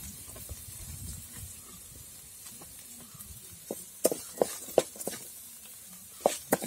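Onions frying in a pan with grated coconut for idli uppittu, a steady soft sizzle with a few sharp stirring scrapes and clicks toward the end, close by and moderately quiet, no talking.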